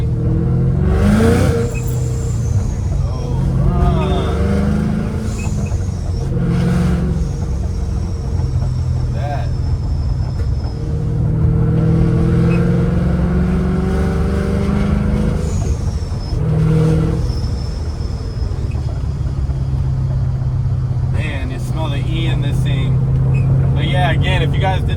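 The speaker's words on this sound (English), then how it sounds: "that's more a little downshift for y'all. Woo, a little second gear action." A Mustang GT with American Racing long-tube titanium headers and a supercharger blips and drops into second gear, its loud, close exhaust surging, burbling and revving in repeated swells over a constant engine drone.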